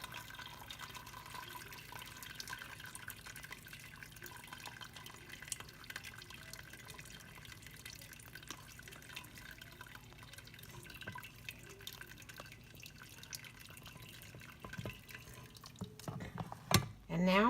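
Strained turkey bone broth drains and drips back into a pot, a faint, steady patter of trickling liquid running throughout, with a clatter near the end.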